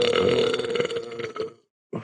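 One long, loud, rumbling burp that lasts well over a second and then cuts off into silence, followed by a brief new sound at the very end.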